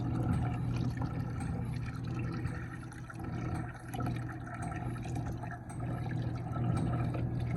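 Liquid mix runs in a smooth, continuous stream from a Taylor soft serve machine during breakdown cleaning, a steady close trickling wash with slight surges and no talking.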